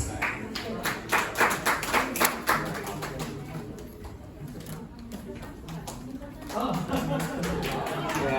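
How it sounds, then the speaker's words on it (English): An audience at a wellness day event claps, with a few distinct, rhythmic claps close by at first that soften into scattered applause and murmuring chatter, then swell again near the end. "round of applause"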